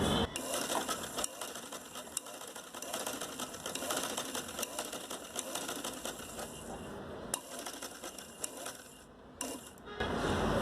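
A sewing machine runs in fast continuous bursts of stitching on a fabric face mask, its rapid needle clatter close and steady with a few brief pauses and small mechanical clicks.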